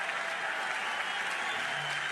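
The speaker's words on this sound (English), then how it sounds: "Listen to this crowd." Steady applause from a large crowd fills the stands at a college softball game between Oklahoma and Wichita State during a pitching change, a continuous dense wash of clapping with no pauses.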